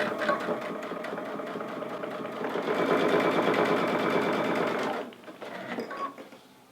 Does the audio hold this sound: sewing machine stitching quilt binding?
yes